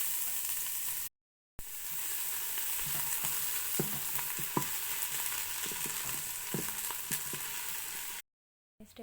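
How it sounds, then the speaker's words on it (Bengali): Onions frying in hot oil for a chicken curry, a steady loud sizzle with scattered crackles and faint stirring clicks, briefly cut to silence near the start and end. "প্রথমে তেল দিয়ে দিচ্ছি, পেঁয়াজ দিয়ে দিলাম"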